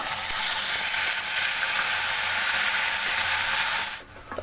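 Onion paste frying in a pan over a low gas flame for a dhaba-style matar paneer, a loud, steady sizzling hiss that cuts off abruptly near the end.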